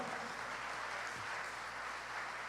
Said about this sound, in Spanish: Aplauda su gloria